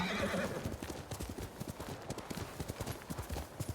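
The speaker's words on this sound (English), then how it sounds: "Gotta remember how to summon my horse." A summoned horse in the video game Ghost of Tsushima neighs, then its hooves clip-clop in a steady rhythmic gallop, loud and continuous over a busy game backdrop.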